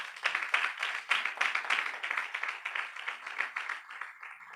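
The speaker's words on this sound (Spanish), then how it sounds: "Denle un fuerte aplauso al Señor" A small church congregation claps in a quiet, uneven patter of individual hands, the separate claps clearly distinct and fading slightly toward the end.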